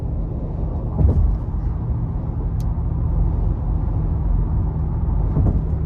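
A 2023 Mercedes-Benz G550 4Matic G-Wagon cruising steadily, heard from inside the cabin as a low, continuous road and engine rumble with a couple of soft bumps, no voices.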